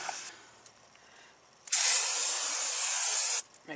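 Brake cleaner sprayed from an aerosol can onto a new brake rotor on a Jeep Cherokee: one close, steady hiss lasting under two seconds after a quiet lead-in.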